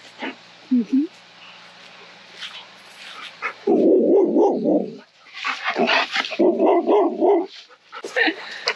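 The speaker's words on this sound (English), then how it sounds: "The dogs have just come over to say hi." Dogs roaming free on a rural Australian property bark in close, loud bursts, a few sharp yips early then clustered barking runs in the second half, with brief pauses between volleys.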